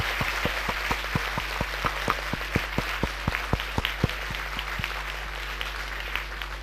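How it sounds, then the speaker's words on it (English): An audience at a literary meet in Kolkata applauds, a steady round of clapping with dense overlapping claps that holds fairly even from start to finish without voices. "So can you give them a very round of loud applause?"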